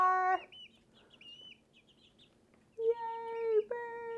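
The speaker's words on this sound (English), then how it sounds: "Oh, birdies, birdies." Chickens in an outdoor farmyard give clear, loud harmonic clucks and calls in two bursts, with a quieter stretch of faint chatter and rustling between them.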